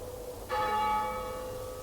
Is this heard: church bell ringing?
yes